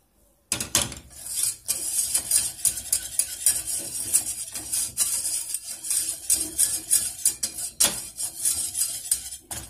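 Flour toasting in a pan as it is stirred, a close run of rhythmic scraping and clattering utensil strokes over a light sizzle, beginning after a brief silence.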